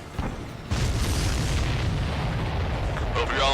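Explosions in the aerial combat video game Ace Combat 7 roll out as a sustained, heavy booming rumble that swells suddenly after a brief lead-in and stays loud and dense throughout, with crackling bursts near the end.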